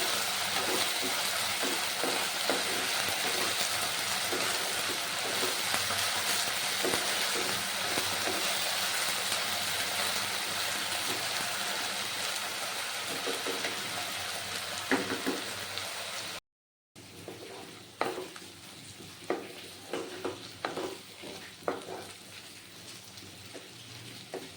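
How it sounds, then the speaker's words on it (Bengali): Ginger and green chilli paste stirred in hot oil in a frying pan for Bengali aloo dum, a continuous close crackling sizzle with repeated spatula scrapes, a brief break, then quieter hissing with sharper stirring knocks. "এবার আমি আগে থেকে পেস্ট করে রাখা আদা আর লঙ্কাটা দিয়ে দিচ্ছি। এটাকে এবার মিশিয়ে নেব"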